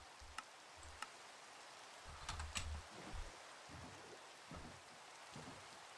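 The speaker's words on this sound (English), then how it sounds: "Rain's a lot in this world." Rain falls steadily in a video game world, a faint soft hiss with scattered light drops and occasional ticks, quiet and continuous under the game ambience.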